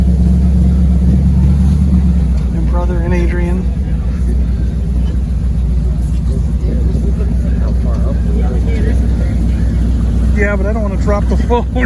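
Swamp buggy, a giant monster-truck-like vehicle on an Everglades ride, its engine giving a loud, steady low rumble up close throughout while people talk over it.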